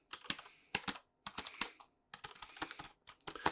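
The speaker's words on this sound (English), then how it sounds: "But yeah, this is certainly an interesting keyboard." Fast typing on a computer keyboard, heard close and crisp in quiet ASMR-style bursts of rapid clicks that are separated by brief pauses.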